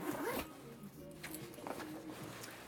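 The zipper on a Sweaty Betty bag is pulled open in one quick rasping run near the microphone, followed by faint handling rustles.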